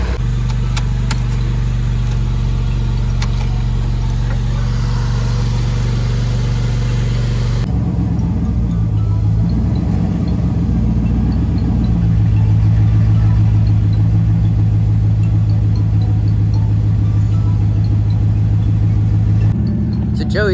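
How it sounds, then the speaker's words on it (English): A truck engine idles steadily, then is revved up and down in long swells, a loud close-up mechanical drone that rises and falls without any talking. "letting the truck kind of idle some, and he's trying to rev it up and down"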